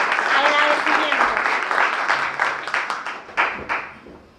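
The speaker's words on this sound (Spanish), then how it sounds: "un aplauso para Yair, un agradecimiento." An audience applauding a guest at a talk on communication, clapping that starts full and thins into scattered individual claps toward the end, with voices mixed in.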